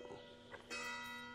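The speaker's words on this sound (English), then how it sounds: "I'm about to record something and the bells start chiming." Church bells chime in the distance, a faint sustained ringing tone that swells in partway through the brief moment.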